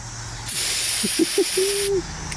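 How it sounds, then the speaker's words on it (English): An aerosol can of brake cleaner sprays in one loud, steady hiss lasting about a second and a half, close by, during work on an engine, with a few faint squeaks just before it. "We got this nice can of brake clean here"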